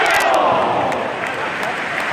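A football stadium crowd at an Everton versus Sunderland match roars and applauds, a dense, sustained wash of cheering and clapping from a large crowd.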